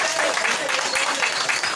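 Audience applause at a Balinese comedy show, a steady dense patter of many hands clapping that holds at an even level through the short stretch.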